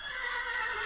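A Minecraft horse, modded game, lets out a short high whinny, clear and close, lasting under a second with no talk.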